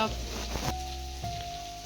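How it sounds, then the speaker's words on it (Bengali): Potatoes, onions, chopped garlic and slit green chillies sizzle steadily in a pan, a close, continuous frying hiss with a faint stir midway. "আলু পেঁয়াজ একটু রসুন কুচি কাঁচা লঙ্কা চিড়ে দিয়ে এখন ভাজা ভাজা করছি"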